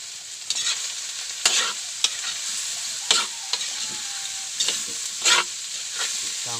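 Squid or octopus fries in a pan for adobo, giving a constant sizzle broken by repeated clattering stirs at irregular intervals, close and clear.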